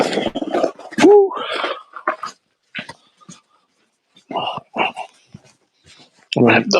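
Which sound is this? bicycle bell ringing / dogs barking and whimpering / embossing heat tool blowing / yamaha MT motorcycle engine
dogs barking and whimpering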